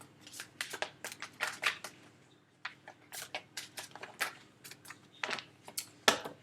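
Tarot cards are shuffled by hand in a spiritual reading, producing quick bursts of crisp papery riffles and slaps, close and clear, with a brief pause partway through.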